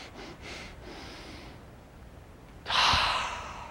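Short breaths during a stretching exercise: a few soft, quick nasal breaths at first, then one louder, sharper snorting exhale near the end, close to the microphone with no talk.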